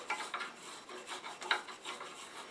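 Lathe scraper hollowing tough white oak for a salt and pepper shaker, a quiet rhythmic rasping scrape repeating in short strokes, close and alone.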